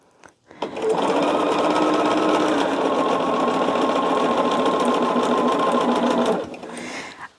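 Close and loud, a sewing machine runs in one continuous fast burst of about five seconds, its needle chattering steadily as rows of a quilt top are joined, then it slows and stops.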